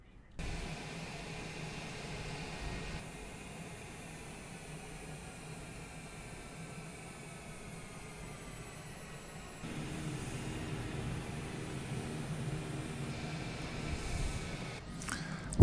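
Cessna Longitude business jet taxiing at Lukla in Microsoft Flight Simulator, a steady simulated turbine whine and rumble running alone for about fifteen seconds, growing slightly louder partway through.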